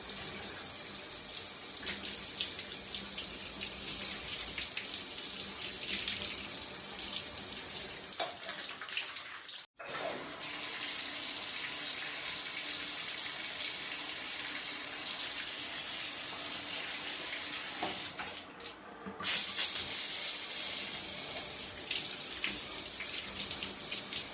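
Shower water pours steadily while a temporary tattoo is washed off with soap, a continuous hiss that briefly cuts out twice before resuming.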